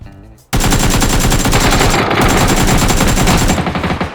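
Sustained automatic gunfire in PUBG: a loud, close, rapid stream of shots that starts abruptly after a brief quiet moment and continues without a break to the end.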